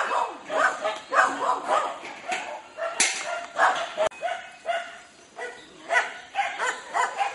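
Many dogs bark and yip continuously at a rescue shelter in the Philippines, a dense, loud chorus of overlapping barks near and far with no pauses.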